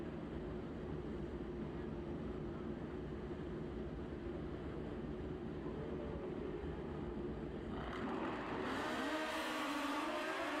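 Suzuki Hayabusa drag racing motorcycles at a drag strip launch with a loud, sustained engine roar, rising into a higher revving whine near the end.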